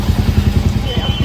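A motorcycle idles close by with a low, steady chugging pulse, and voices talk over it throughout.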